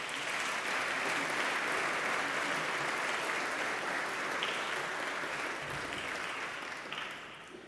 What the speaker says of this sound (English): May we just have a round of applause for Dr. Elizabeth McRae and Dr. Anthony Sadler.